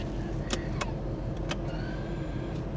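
A Dodge Charger in limited-power turtle mode starts to move under its own power: a low, steady vehicle hum fills the cabin, broken by a few sharp clicks and a faint tone.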